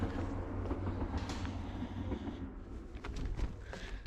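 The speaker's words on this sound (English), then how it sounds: "The noise of the train up here on this west coast line is insane." A train on the West Coast rail line in Scotland rumbles past near Kilchurn Castle, a loud steady roar with rattling wheel clatter and sharp metallic clicks, no talk.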